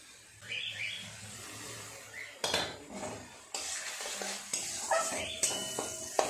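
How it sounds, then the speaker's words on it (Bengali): Spice paste being stirred and fried in a pan for a tangra fish curry, with a spoon clanking and scraping against metal in irregular strokes over a soft sizzle, close and fairly quiet. "ভালো করে নেড়ে চেড়ে মশলাটা একটু কষিয়ে নেব"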